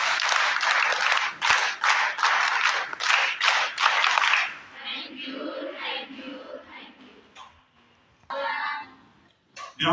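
An audience claps loudly in a burst of thank-you applause lasting about four seconds, then fades into murmuring crowd chatter and scattered voices, with a brief second swell of noise near the end.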